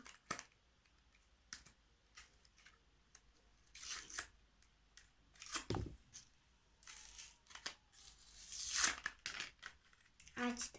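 Toy packaging being torn and pulled open by hand, with bursts of ripping and crinkling in uneven spurts, close up, alongside a person talking.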